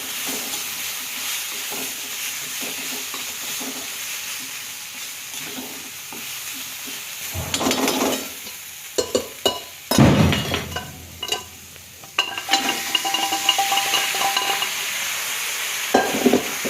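Mutton cooked with ginger-garlic paste, onion, turmeric and salt sizzles steadily in an iron pan, joined later by bursts of scraping and metallic clinks as a utensil stirs the meat close by.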